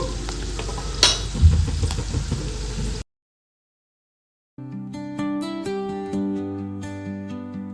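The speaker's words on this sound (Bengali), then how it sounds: "এইভাবে করে আমি নাড়তে থাকছি আর অল্প অল্প করে ঢাকা দিয়ে হতে দিচ্ছি" Green chillies fry in a pan as they are stirred, giving a close, steady sizzle with scraping for about three seconds. A short silence follows, then music plays.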